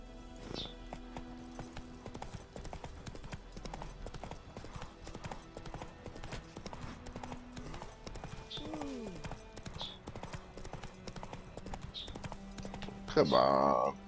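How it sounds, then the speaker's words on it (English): Horse hooves clip-clopping in The Witcher 3 video game, a steady trotting rhythm over ambient music and game sounds, with a brief horse snort or whinny and a louder burst near the end. "I have a horse."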